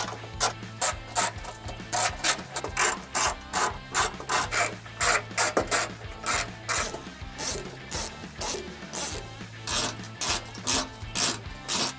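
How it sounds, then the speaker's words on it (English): A ratchet with a 10mm socket clicks in quick rhythmic bursts, removing heat shield fasteners underneath a 2020-2024 Ford Explorer, close up with short pauses between runs and no talking. "We're gonna go ahead and use a 10mm socket for four fasteners underneath"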